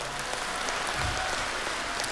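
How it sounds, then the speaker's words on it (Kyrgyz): An audience at a 2025 concert applauds in a dense, steady wash of clapping that holds evenly throughout. "Буга кол чаап койсок болот."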